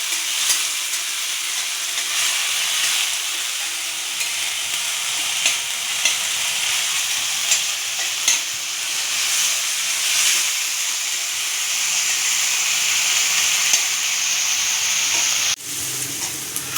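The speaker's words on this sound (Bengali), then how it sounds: "এটা একটু নেড়ে ভেজে নেব" Moong dal fries in a pan while being stirred, a continuous loud sizzle and hiss with repeated spatula scrapes and knocks, running steadily and then dipping briefly near the end; no one speaks.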